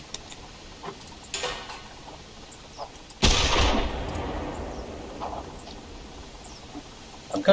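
One sharp, loud 12 gauge Blaser F3 over-under shotgun blast at clay targets in theHunter Classic, with a lingering decaying tail and faint small clicks before and after.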